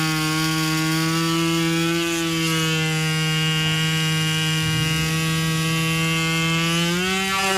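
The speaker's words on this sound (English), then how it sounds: "Got that impact point drilled out." A small drill bores out the chip impact point on a car windshield, a loud, steady high whine held close with a slight dip and a pitch change near the end.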